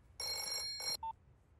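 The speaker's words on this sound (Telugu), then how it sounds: "అరే ఫోన్ రింగ్ అవుతుందిరా" A telephone bell rings close by in two loud, bright bursts, the first longer than the second, followed by a brief single electronic tone, with no voices.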